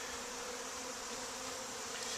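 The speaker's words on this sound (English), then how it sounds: "these guys are killer bees" Killer bees at an opened hive during an inspection make a continuous droning buzz, close and even, with no pauses or voices.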